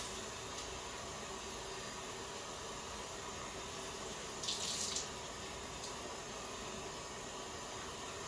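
A tap runs steadily during wudu ablution, a faint, even hiss of flowing water with a brief splashier burst midway as hands pass under the stream, heard alone without talk.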